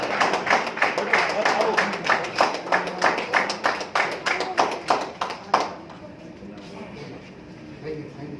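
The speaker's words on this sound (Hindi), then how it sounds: "तालियों से स्वागत कीजिए आप" An audience at an evening honouring social workers, held at an Academy of Fine Arts, welcomes an honoree with loud, rhythmic clapping in steady beats for about five seconds, then it stops and the room falls to a quiet murmur.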